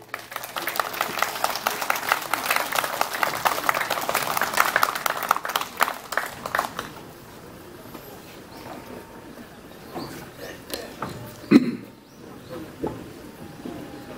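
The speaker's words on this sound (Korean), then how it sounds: "등단하실 때 힘차게 박수를 부탁하겠습니다" Audience at a rally marking the 68th anniversary of the Incheon Landing and opposing an end-of-war declaration breaks into loud, sustained clapping for about seven seconds, then fades to quiet murmur with a brief thump near the end.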